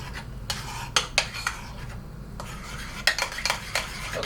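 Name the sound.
whisking pancake batter in a bowl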